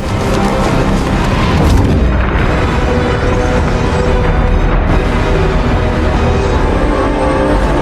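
A building demolition explosion in a film scene, heard as a sustained, loud, booming roar that rumbles steadily from start to finish with no clear pauses or separate bangs.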